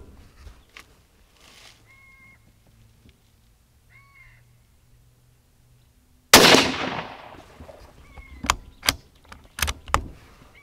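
A rifle shot fired through a Pulsar Thermion XP50 thermal scope set to 2 power, outdoors: one sudden loud report with a ringing decay, followed by scattered sharp clicks and nearby crow caws.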